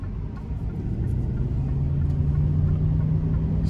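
Chevrolet Express 2500 conversion van, a 2021 model, driving on a test drive, heard from inside as a steady low engine and road rumble with a faint rising tone, no voices.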